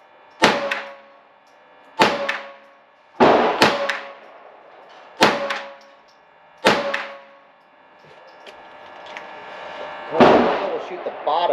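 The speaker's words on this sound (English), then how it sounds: "We'll shoot the bottom right little target. These are with the CCI stingers." A Ruger 10/22 Takedown Lite rifle fires CCI Stinger .22 rounds outdoors at a range, six sharp, loud cracks about one to two seconds apart, each trailing off in a short echo.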